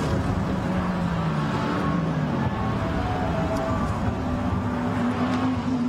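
GT race cars, among them a BMW M6, lap the Barcelona circuit in a Blancpain GT Sports Club qualifying race, a continuous engine roar with shifting pitch as cars pass at a distance.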